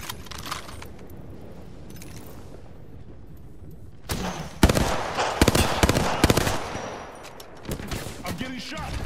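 Incoming gunfire hits the player in Apex Legends: bursts of loud, sharp shots and impacts crowd the second half after a quieter stretch, with voices underneath.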